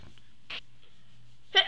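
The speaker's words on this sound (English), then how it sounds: "Wait a second, I gotta sneeze." A person sneezes close to the microphone: a small puff of breath is followed moments later by one sharp, loud sneeze in an otherwise quiet room.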